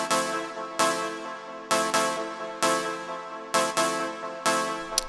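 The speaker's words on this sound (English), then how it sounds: "So I have this DWGS guitar sample layered up with a classic analog sawtooth" Korg Triton chord stabs built from a DWGS guitar sample layered with an analog sawtooth and run through a high-pass filter, hitting in a syncopated pattern of about seven bright, sustained chords, loud and clean with no voices.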